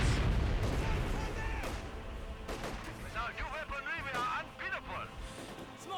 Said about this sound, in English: Mortar squad laying some shots on that Assault Gren, forces him off of the field